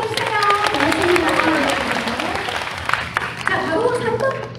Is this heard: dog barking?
no